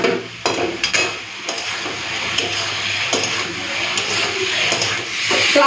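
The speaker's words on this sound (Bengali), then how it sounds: "এরপর দিয়ে দিচ্ছি ভেজে রাখা আলু।" Fried potatoes tossed into a spiced turmeric and Kashmiri chilli masala in a pan, giving a steady sizzle with scraping stir strokes at intervals, close and moderately loud, no voices.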